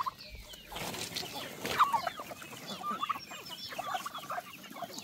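Several chickens cluck softly and continuously nearby, with occasional sharper squawks rising above the low murmur.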